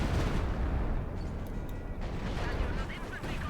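Howitzer artillery and mixed gunfire in Company of Heroes 2 during a battle: a dense, continuous rumble of distant blasts and crackling shots with no clear single impact.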